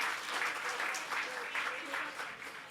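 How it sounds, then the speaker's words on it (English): Audience at a women's empowerment session of an interfaith forum in Pune claps for the speakers, a fairly faint, continuous round of applause heard from a distance in a hall. "A round of applause again, everybody, for all our speakers today here."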